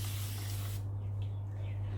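A trigger spray bottle mists water over chalk paint during a bleached-wood furniture flip, giving a short, close hiss that cuts off sharply, leaving a quiet room with a low steady hum.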